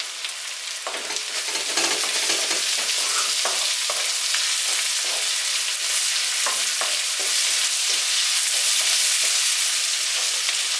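Curry leaves sizzle and fry in a chicken masala pan, a steady loud crackling hiss with scattered scraping stir strokes throughout, no voices.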